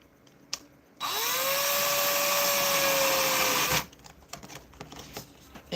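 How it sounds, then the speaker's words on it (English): A power tool whines loudly for about three seconds as it drives a screw in, its pitch rising quickly as the motor spins up, then it cuts off, leaving faint clicks and handling noises. "We're getting it done. We're screwing it in."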